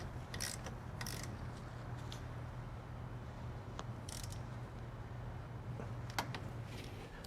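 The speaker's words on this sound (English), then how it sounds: "take our 14mm socket and go ahead and tighten it down" A 14mm socket on a ratchet tightens the differential fill plug on a Lamborghini Murcielago, giving faint, scattered ratcheting clicks close up over quiet background hiss.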